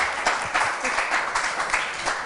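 Brief round of applause from a small group, steady overlapping claps, moderately loud and close.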